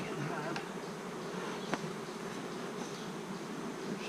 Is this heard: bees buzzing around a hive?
yes